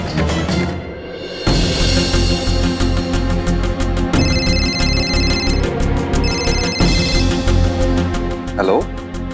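A telephone rings repeatedly in a home amid background music, the ringing tone pulsing in bursts over a steady musical bed.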